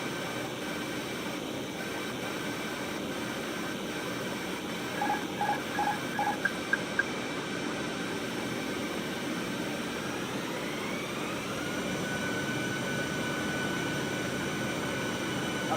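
Airplane engine in Microsoft Flight Simulator during a Delhi to New York flight, a steady jet drone with a rising whine near the end and a few faint short tones over it.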